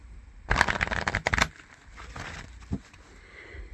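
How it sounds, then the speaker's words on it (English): Close-up shuffle of a tarot card deck: a quick burst of riffling and flicking cards over about a second, followed by softer handling and a small tap, with no talking. "We're just going to give it a little shuffle,"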